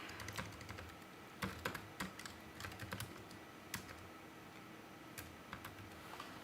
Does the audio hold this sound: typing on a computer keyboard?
yes